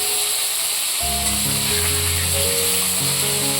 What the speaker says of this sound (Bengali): তো এখন মাছ ভাজা হচ্ছে